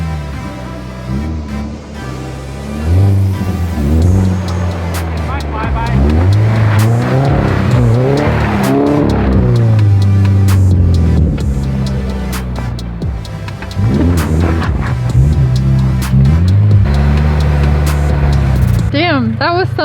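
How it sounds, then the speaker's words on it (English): A 2022 Subaru BRZ with an aftermarket exhaust revs and flies past, loud throaty engine notes rising and falling through gear changes, closing in and then pulling away, with people talking over it. "Damn, that was some flyby"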